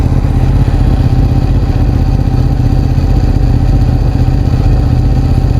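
Steady, loud idle of a motorcycle engine, either a Suzuki GSX-R600 K7 or a Ducati 899 Panigale, an even rhythmic putter with a slight mechanical clatter, close by and with no voices.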